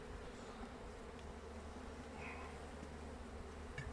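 Honeybees drone at a hive in a steady, continuous buzz close by, a busy hum with no voices.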